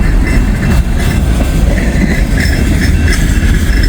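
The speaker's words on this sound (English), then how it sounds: "There's another train down there." A loud, steady coal train rumble rolls past, with a dense low roar and faint rhythmic rail clatter, no pauses.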